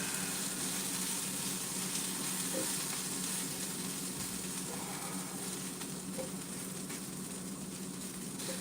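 Onions frying for caramelizing in a pot sizzle steadily at a close, even hiss, with a few faint knocks of stirring beneath and no talking.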